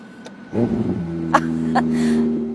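A car engine revs up and holds a steady, rising drone for a couple of seconds, with a few sharp clicks over the hum.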